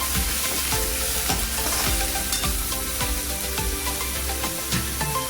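Ginger garlic paste sizzling in a pan for Kerala chickpea curry (kadala curry), stirred with a utensil: steady hot frying hiss with regular scraping strokes and light knocks, close and loud, no talk.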